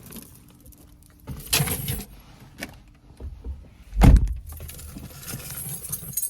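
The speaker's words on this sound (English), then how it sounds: "why would I ever in my life throw my keys in the seat beside me when I need to start my car?" Car keys jangle in a few short bursts inside a car on a hot day, with a louder clatter near the middle as they drop onto the seat, along with faint rustling and movement.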